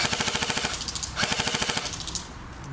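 A CYMA Thompson "Chicago Typewriter" airsoft gun firing on full auto: two rapid, evenly ticking bursts of clattering shots, close and loud, with a short pause between them.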